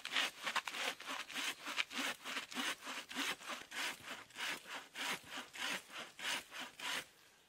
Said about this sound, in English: It looks like it's a pine, so it's not going to be too hard to cut through.